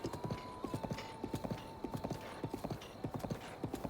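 Horse hooves clip-clop steadily in Zelda: Breath of the Wild, a fast, even galloping rhythm running throughout, with a sustained musical tone and ambient game sound underneath.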